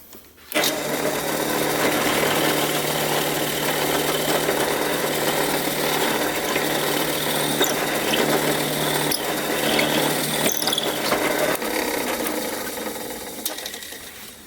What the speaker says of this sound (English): So let's bring it over to the drill press. We'll get the hole in,